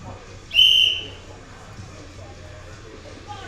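A single sharp referee's whistle blast signals an athlete to begin an attempt at a novice men's strongman competition, short and loud over a quiet hall murmur.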